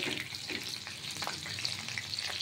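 Prawns fry golden in oil over low heat, a steady close crackling sizzle with occasional sharper pops running throughout.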